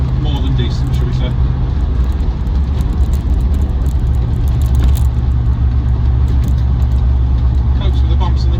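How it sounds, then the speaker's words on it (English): A 50th anniversary Land Rover Defender 90 with a 4.0 V8 and automatic gearbox drives along a road, its engine droning steadily under constant loud road and cabin rumble. "50th anniversary Defender is an absolute joy to drive"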